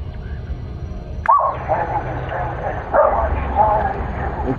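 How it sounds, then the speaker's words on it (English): Short dog barks sound twice, fairly close, over a low continuous hum with talking mixed in. "It's still the dog."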